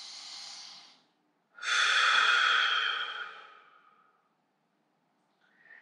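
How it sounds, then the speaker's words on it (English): A deep breath during a leg stretching and flexibility routine: a long, close, steady inhale follows a shorter earlier breath, then fades to silence. "I'm gonna do one more deep breath in."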